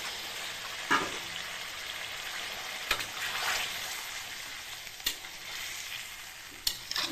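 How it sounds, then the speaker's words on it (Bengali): Fish curry masala with potato and papaya sautéing after a splash of hot water, a soft continuous sizzle with a few sharp spatula knocks against the pan, close and without speech. "জলটা দিয়ে আর একটুখানি কষিয়ে নেবো ভালো করে"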